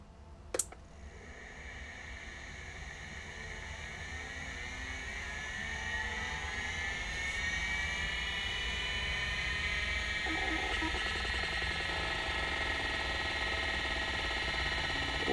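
A Convergent Technologies AWS hard drive spins up under test, a steady whine climbing in pitch after a sharp click at the start, with a rising mechanical hum that grows louder and holds near, with no voices.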